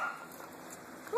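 Two young puppies whimpering indoors, a thin high whine followed by a brief rising yip at the end, soft and close, with no speech over it.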